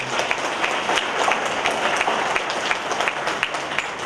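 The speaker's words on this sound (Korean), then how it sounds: "여러분들이 우리 창깨방송 김용환 씨에게 다시 한번 박수를 보내드릴 것을" Sustained audience applause at a lecture hall event in Busan, dense steady clapping from a large crowd with sharp individual claps standing out, no speech over it.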